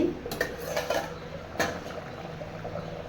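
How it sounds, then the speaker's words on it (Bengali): Lid lifted off a cooking pot of potatoes: two clattering metal knocks near the start and middle, followed by a soft clink over faint kitchen background, with no talking. "এবারে আমি ঢাকা তুলে নিচ্ছি"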